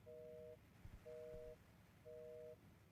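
Telephone busy tone in the horror game The Baby in Yellow: three evenly spaced half-second beeps, faint and thin, with soft footsteps or bumps between them.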